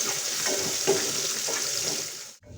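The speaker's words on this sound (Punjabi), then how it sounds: "ਪਿਆਜ਼ ਨੂੰ ਆਪਾਂ ਇੰਨਾ ਕਿ ਭੁੰਨਾਂਗੇ" Chopped onion sizzling in a pan with garlic and ginger for a spiced masoor dal, a steady close hiss with faint stirring scrapes, cut off abruptly near the end.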